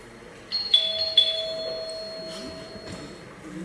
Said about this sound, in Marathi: बघा बेल वाजली.